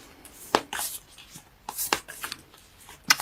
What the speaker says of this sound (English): let me pull 1 card from Whispers of Love